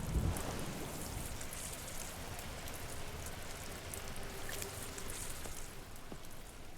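Watering crops in the farming video game Homestead Arcana gives a steady, soft patter like light rain hitting soil, continuous and fairly quiet for several seconds with a few faint clicks.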